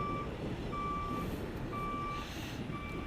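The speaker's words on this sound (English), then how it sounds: "All the trucks getting in position." Trucks maneuvering into position at a Jordanelle sand site, their reversing alarms sounding a steady, evenly spaced series of loud beeps over a continuous low diesel rumble.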